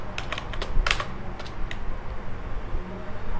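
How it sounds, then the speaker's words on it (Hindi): Clicky keystrokes on a computer keyboard while entering text in MS Word, a quick irregular burst of close taps early on, then sparser presses over a steady low room hum. "कीबोर्ड से शिफ्ट बटन दबा के अंडर स्कोर बटन दबाइएगा"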